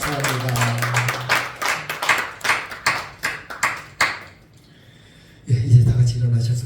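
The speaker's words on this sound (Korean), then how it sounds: "박수 한번" Church congregation in a Korean service clapping to celebrate a family's newborn: a burst of sharp, closely spaced hand claps for about four seconds that quickly fades to near silence, followed by voices and music resuming.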